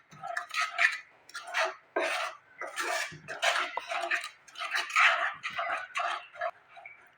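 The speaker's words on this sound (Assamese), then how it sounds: "এইদৰে মিডিয়াম ফ্লেমত মই লৰাই থাকিম।" Peda mixture stirred in a pan over a medium flame, a spoon scraping and knocking against the metal in a steady rhythm of close, repeated strokes.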